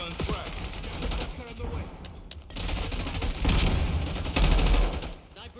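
Rapid gunfire in a military shooter video game, dense crackling volleys in bursts with heavier booming shots, loud and close, while voices talk over the fighting.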